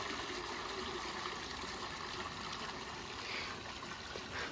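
Water falls straight down from above into a container that fills and then empties, giving a steady, close rushing and trickling wash with no talk over it.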